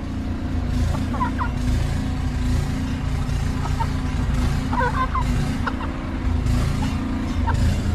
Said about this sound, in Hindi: मुर्गियाँ और मुर्गा मेरे पास पहुँच चुका है